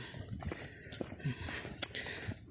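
A horse carrying harvested pechay walks along a farm path, its hooves clip-clopping in an irregular, moderately close rhythm over faint background noise.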